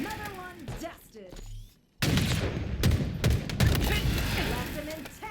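Rapid video-game gunfire bursts in an online shooter, dense and loud after a brief quiet gap, continuing steadily to the end.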